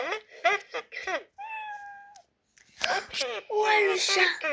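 A single drawn-out cat meow plays as the prompt in an animal-sound guessing game. It is clear and close, with speech just before and after it.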